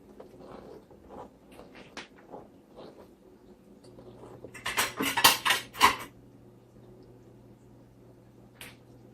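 Garlic powder and spices are stirred into pinto beans in a Dutch oven, heard as scattered spoon clinks and scraping, then a louder burst of metallic stirring clatter midway before things go quiet.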